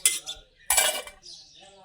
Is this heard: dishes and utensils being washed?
yes